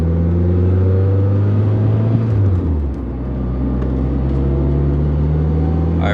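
A turbocharged DSM car engine idles close by during warm-up with a steady low hum. Its pitch dips briefly and then holds, and a faint whine sits above it, with no one talking.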